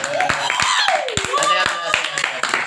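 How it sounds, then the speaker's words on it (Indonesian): A small studio group claps on request during a podcast, sharp separate hand claps close to the microphone under continuing speech. "Tepuk tangan dulu dong semuanya."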